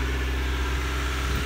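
Honda Civic EJ9 with an exhaust leak at the back box, idling with a steady, close, low-pitched engine rumble and a faint raspy edge, no voices.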